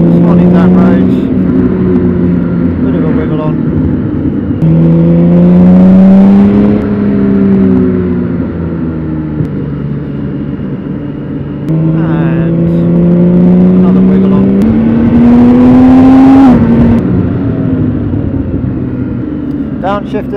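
A 2023 BMW K1600GTL motorcycle accelerates while being ridden. The droning engine pitch climbs, drops at each gearshift, then climbs again, and a rider talks over it.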